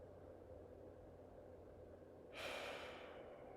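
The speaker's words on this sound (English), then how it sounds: "I can hear my breath in through my nose and out through my mouth" Quiet, close breathing: a soft steady inhale through the nose followed by a louder, airy exhale through the mouth near the end, with faint background hiss.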